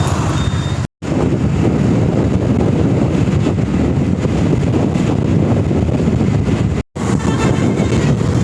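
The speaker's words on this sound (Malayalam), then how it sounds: "നല്ല കാറ്റുണ്ട്, നല്ല വെയിലുണ്ട്, നല്ല കാറ്റുണ്ട്." Strong wind buffets the microphone on a sunny, dry road toward Silent Valley near Sholayur, Attappadi: a loud, continuous roaring rumble with two brief cut-outs.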